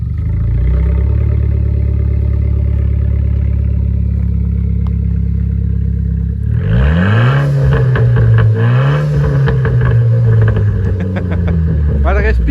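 A Renault Clio 4 RS with 250 horsepower idles at a steady low drone, then in sport mode revs hard, the engine note climbing, falling and climbing again under crackling pops, with people talking in the car.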